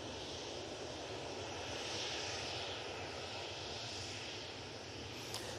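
A Ryanair jet landing at Manchester Airport after a flight from Bologna gives a steady, distant, faint broadband engine roar with a hissy whine, unchanging across the whole stretch.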